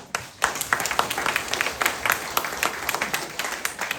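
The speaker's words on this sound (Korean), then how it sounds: "정말 우리 박수 한번 쳐야 되겠죠?" A congregation claps together at a Saturday prayer meeting in a Catholic church, beginning abruptly after a brief pause and continuing as moderately loud, fairly rhythmic applause that shifts and thins slightly toward the end.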